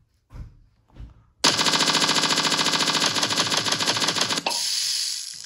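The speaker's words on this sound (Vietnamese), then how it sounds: "Bắn nào." After two soft thumps, a loud burst of machine gun fire in a mobile video game rattles steadily for about three seconds, then cuts to a sustained hiss. No voices.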